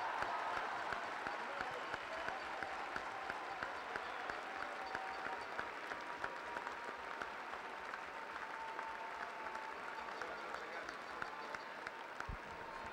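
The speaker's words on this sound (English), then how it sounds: "a round of applause for Sacred Heart for their great season and an outstanding run in the tournament" A hockey arena crowd applauds the runners-up at the 2010 Atlantic Hockey Tournament, a steady wash of clapping heard from a distance, with a public-address voice talking over it.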